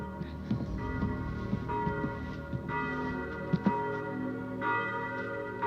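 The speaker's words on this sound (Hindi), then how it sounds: "गिरजाघर की घंटियां सुनाई दे रही हैं, लगता है पास ही है।" Church bells ring nearby in several overlapping, resonant strikes that sustain and layer into a continuous peal, moderately loud, with no speech over them.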